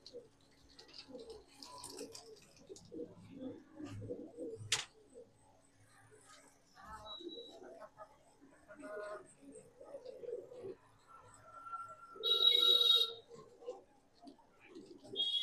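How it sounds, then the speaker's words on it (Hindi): Pigeons of Punjabi, Madrasi and Saharanpuri breeds cooing in low, soft bursts at a bird sale, with someone talking over them and scattered handling noises. "एक से एक नया लाजवाब कबूतर है देखने को मिलेगा।"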